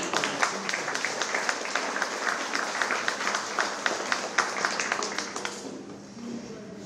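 Crowd applause at a children's contest award ceremony as winners receive their prizes, steady dense clapping with distinct individual claps, then fading out near the end into quiet room tone.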